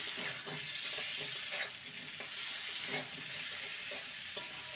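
Potatoes and tomato fry in a pan while being stirred, a steady soft sizzle with faint scraping touches throughout, quiet and close.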